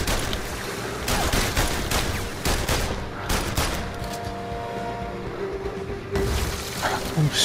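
Rapid, dense volleys of gunfire crackle almost nonstop in the VR video game The London Heist, loud sharp shots piling over one another with a voice briefly heard beneath.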